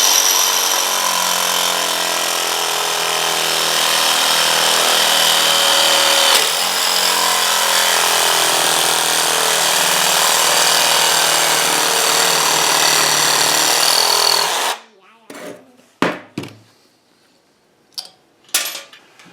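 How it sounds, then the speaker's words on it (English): A power tool cuts through a stainless steel bracket with a loud, steady, high grinding whine for about fifteen seconds, then stops, leaving a few sharp clanks and scrapes. "we're probably going to cut off the rest of this bracket"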